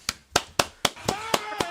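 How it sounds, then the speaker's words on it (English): Audience applause greets a guest being introduced on a stage show, heard as a run of sharp, evenly spaced claps that settle into a steadier clatter toward the end, fairly close and loud. "Ladies and gentlemen, y'all start clapping."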